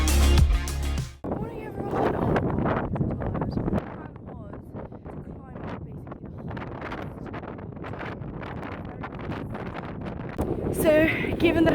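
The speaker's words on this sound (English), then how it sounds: "So, given that it's really, really windy today" Strong wind buffets the microphone during a trek in Morocco's Sahara desert, gusting roughly and continuously throughout while people talk over it.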